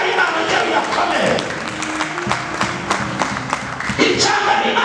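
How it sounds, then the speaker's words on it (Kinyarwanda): A church congregation claps and applauds for God, a bright crackling burst of many hands that swells, dips and picks up again under a preacher's raised voice. "Twakomera Imana amashyi, aya mashyi barayimana njye uyakomere."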